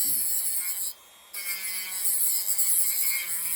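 A Dremel rotary tool grinds down a raggedy bolt on a Honda CL350/CB350 motorcycle frame, a steady high-pitched buzzing whine up close that cuts out briefly, then resumes.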